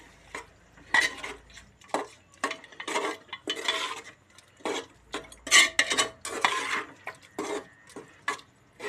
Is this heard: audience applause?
no